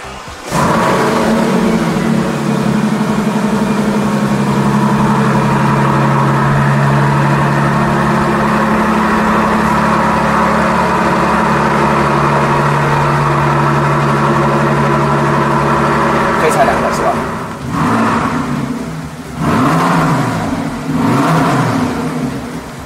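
A British Racing Green GT sports car at a luxury dealership idles with a steady, close engine hum that rises and falls through several sharp revs near the end, with no talking.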